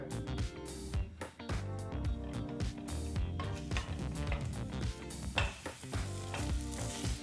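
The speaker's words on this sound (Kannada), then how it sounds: "ಒಂದು ಟೇಬಲ್ ಸ್ಪೂನಷ್ಟು ಎಣ್ಣೆನ ಹಾಕಿ ಸರಿಸುಮಾರು ಐದರಿಂದ ಆರು ನಿಮಿಷ ಮೀಡಿಯಂ ಫ್ಲೇಮ್ನಲ್ಲೇ ಕ್ಯಾಪ್ಸಿಕಮ್ನ ಹುರ್ಕೋಬೇಕಾಗತ್ತೆ" Capsicum sizzles steadily in about a tablespoon of oil over a medium flame, with a continuous frying hiss and occasional stirring scrapes under loud background music.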